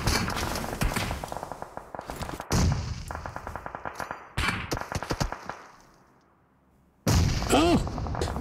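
Grenade explosion in a competitive shooter video game: sharp, loud bursts among rapid gunfire crackle, then a brief quieter lull before another loud burst at the end.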